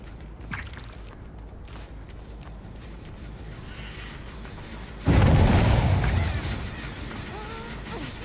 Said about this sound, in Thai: โอเคเครื่องระเบิด